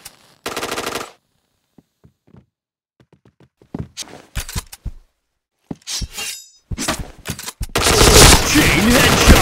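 A T77 rifle firing in the shooter game Point Blank: short, sharp bursts of shots spaced by quiet gaps and soft thuds, ending in a long, loud, continuous burst of automatic fire.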